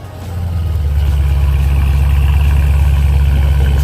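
A 2018 Dodge Challenger 392 Scat Pack Hemi with a fully automatic transmission holds a steady, deep rumbling exhaust note that swells in over the first half second and then drones on evenly, close and loud.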